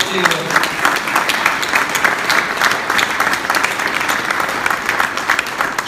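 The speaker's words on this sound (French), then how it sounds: "mon ami Michel Telet, je crois qu'on peut l'applaudir très très fort" A crowd at the AMIF New Year's greetings ceremony in the Paris Hôtel de Ville claps loudly and steadily for the full stretch, a dense, sustained wash of many hands, with a brief voice audible at the very start.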